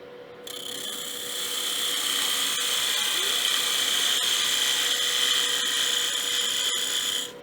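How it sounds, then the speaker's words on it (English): Wood lathe spinning at about 2,000 RPM while a tool takes peeling cuts on a box tenon, a steady, loud, high whine with a constant tone that runs without a break for several seconds. "Take a few peeling cuts. For that tenon."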